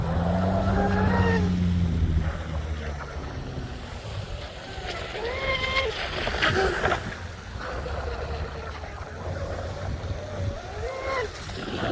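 Vintage MRP Kyosho Dolphin RC tunnel hull boat with an outboard motor in the deep position, a thin buzzing whine rising and falling as it runs on open water, with wind noise throughout.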